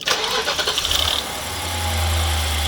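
A BMW 7 Series E65 V8 engine cranks with a rapid chugging whir, catches, and settles into a low, steady idle, close and fairly loud.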